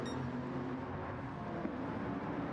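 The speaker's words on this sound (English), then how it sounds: "Porsche hustling up those hills and through those corners." A Porsche in a racing video game holds a steady engine drone as it climbs hills and takes corners, the motor note continuous and moderately loud with no voices.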